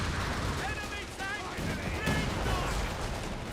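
Company of Heroes 3 battle with rattling gunfire and grenade blasts, a dense continuous din of shots and explosions at steady loudness, with faint voices mixed in.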